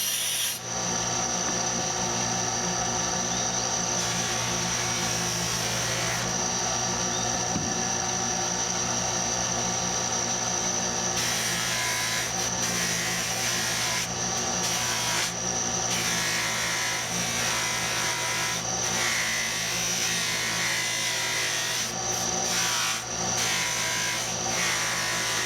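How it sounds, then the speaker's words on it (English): Power buffer running continuously against a linen micarta straight razor scale, a steady close whirring hum with a rubbing, rasping texture that shifts in intensity as the piece is pressed and moved, with no talking. "Now I'm going to buff the linen micarta."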